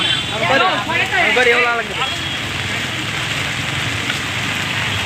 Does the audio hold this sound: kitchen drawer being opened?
no